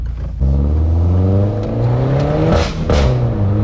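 A stage 2 tuned Peugeot 208 GTI accelerates hard on a test drive, its engine note climbing loudly through the revs from inside the cabin, with a whooshing shift partway and renewed pull, no talk.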